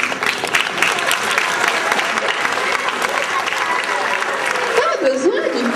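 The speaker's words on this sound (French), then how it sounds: "Nous comptons sur vous pour les encourager et donc pour les applaudir." A school audience applauds children at a presentation, dense steady clapping filling the room throughout, with voices mixed in and a higher shout or cheer near the end.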